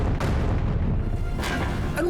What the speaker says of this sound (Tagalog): Nang biglang, may sumabog.